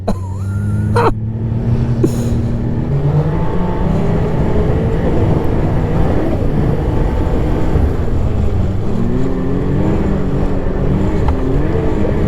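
A MINT 1200 running with 858 clutching, its engine droning steadily and loudly throughout, with shifting pitch as it revs, under continuous road noise and wind.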